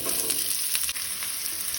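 Sliced onion frying in a little oil in a pan for a Goan cashew and green peas curry, a continuous bright sizzle with faint stirring, no talk.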